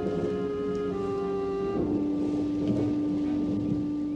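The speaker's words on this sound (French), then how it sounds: "As-tu vu l'orage qui s'annonce?" Low rumbling thunder from an approaching storm in a film, a deep continuous roll under sustained tonal music, steady and moderately loud with no voices.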